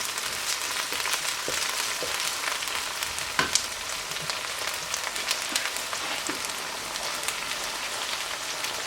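Minced keema frying in a pan with onion and ginger-garlic paste, a steady close crackling sizzle with scattered pops and spits throughout, no voices.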